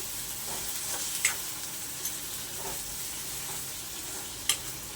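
Tomatoes and onions cook softly in a covered pan for a Konkani dried-clam dish, giving a faint low sizzle with a few light clinks and scrapes, quiet and steady with no voices.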